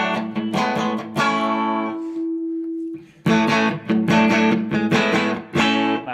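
A Fender 1970s Stratocaster with EMG Dave Gilmour pickups, both tone controls at half, plays overdriven notes and chords: a sustained ringing note fades into near silence, then loud rhythmic chord stabs return, close and without talk.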